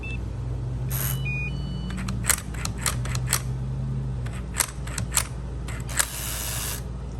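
Inside an LSDA KP5000L electronic push button lock, the mechanism spins with a steady whirring hum, punctuated by a series of sharp mechanical clicks and ticks, close and fairly loud.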